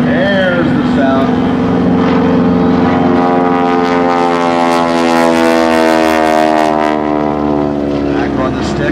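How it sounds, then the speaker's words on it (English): A wingwalking airshow airplane at the 2008 Great New England Airshow dives and gains speed, its loud propeller engine a continuous, droning roar whose harmonic pitch slowly shifts as it accelerates. "Now as he dives and increases speed, there's the sound."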